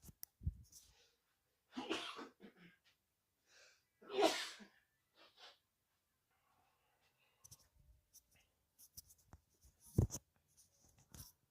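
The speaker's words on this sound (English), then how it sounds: "excuse me guys, I gotta sneeze" A single sharp sneeze cuts through near-silence, with a few soft rustles and small clicks around it, and a little talk earlier in the clip.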